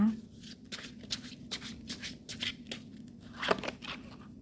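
Tarot cards shuffled in the hands, a run of soft repeated riffling swishes and flicks, close and steady, under someone talking quietly.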